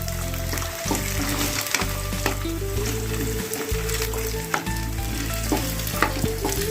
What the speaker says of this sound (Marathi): छान असे बटाटे तेलामध्ये मस्त फ्राय करूया